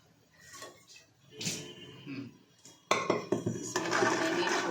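Drained chickpeas tumble into a pressure cooker with clinking, rattling metal knocks and scrapes, sparse at first and then a dense, louder clatter of chickpeas hitting the pot.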